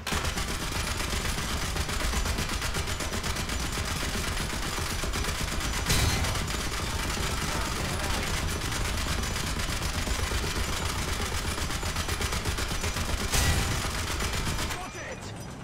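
Rapid .50 cal machine gun fire from a Sherman 76 tank in War Thunder, a dense, loud, continuous burst with a couple of sharper blasts, stopping just before the end.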